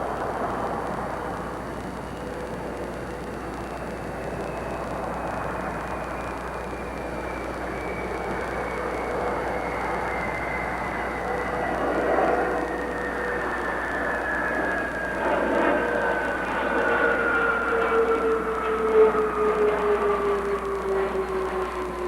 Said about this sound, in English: Atlantis rolling out on runway 15 at the Kennedy Space Center